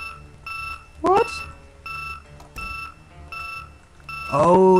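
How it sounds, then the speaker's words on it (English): An alarm in the video game Project Zomboid beeps in repeated high tones, loud and close, while a voice talks and exclaims over it. "Oh, it's an alarm!"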